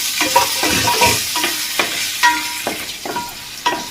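Pieces of boiled egg sizzle in a hot pan as they are stirred, with steady frying hiss and a series of distinct scraping strokes of a spatula against the pan.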